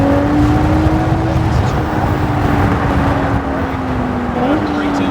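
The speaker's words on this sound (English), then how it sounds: "And now we'll go ahead and accelerate over to the yellow cones" A supercar, such as a Ferrari 296 GTB or Lamborghini Huracán, accelerates across a coned driving course. Its loud engine note rises in pitch, then steadies and climbs again, with an instructor's voice faintly under it.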